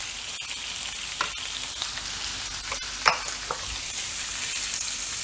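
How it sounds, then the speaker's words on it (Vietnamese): Fresh shrimp fry in hot oil in a thin pan, giving a loud, steady close-up sizzle with a few sharp pops and spatters and one louder burst midway, and no voices. "mình sẽ dầu nóng rồi mình cho tôm vào đây ha"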